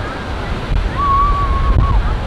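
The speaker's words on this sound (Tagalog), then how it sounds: "Yun o, lakas ng alon." Strong ocean waves wash and roar steadily at a beach in Lingayen, Pangasinan, loud and close, with wind buffeting the microphone and voices calling out over the surf.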